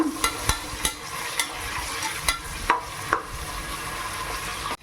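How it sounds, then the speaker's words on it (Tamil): Two large sliced onions sauté in a pan for a biryani masala, a steady close sizzle broken by several sharp clinks and scrapes of a spoon stirring against the pan. "இப்போ வெங்காயத்தை நல்லா வதக்கிக்கோங்க"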